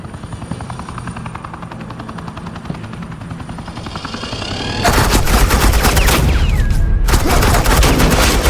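Heavy suppressing gunfire in the video game Batman: The Enemy Within: rapid automatic bursts that erupt loud and close after a low droning rotor hum, then rattle on continuously with only a brief gap.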